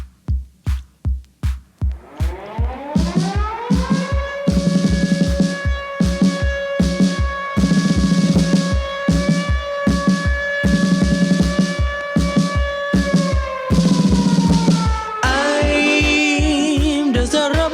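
Reggae song: a steady rhythmic beat with sustained keyboard or vocal lines over a pulsing bass, opening with a few isolated drum hits before the full band enters, loud and continuous.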